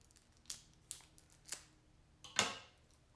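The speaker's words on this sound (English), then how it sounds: "opening up the deck of cards" Deck of cards opened during a board game unboxing: four crisp, sharp snapping and tearing sounds spaced about half a second apart, close and fairly quiet, with the last one the loudest.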